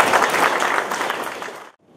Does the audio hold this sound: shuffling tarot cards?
no